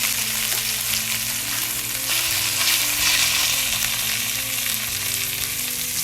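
Braised short ribs searing in a hot pan, a loud, continuous crackling sizzle with fat popping steadily throughout and no voices.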